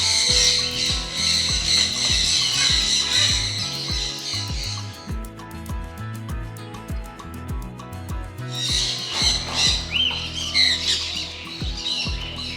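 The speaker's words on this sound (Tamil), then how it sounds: "பச்சைக்கிளி" Green parrots in an aviary give loud harsh squawks in repeated bursts, close by, with quieter clicks and rustling between the calls.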